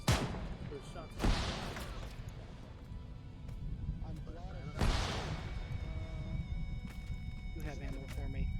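Gunshots in a Halo military sci-fi game mod ring out as a few sharp distant bursts around a couple of moments, heard under players talking over voice chat.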